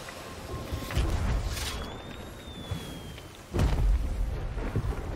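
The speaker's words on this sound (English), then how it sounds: "you'll see fireworks" Fireworks bursting in the pirate video game Sea of Thieves: a few deep booms and crackling pops at a moderate distance, one heavier blast near the end, with no talking.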